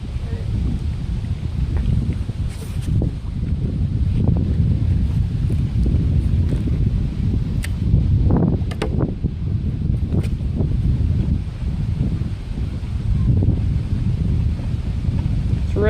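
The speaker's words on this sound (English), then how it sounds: "It's really windy." Strong wind buffets the microphone on a fishing dock, a constant loud low rumble with gusty bursts, while someone talks now and then.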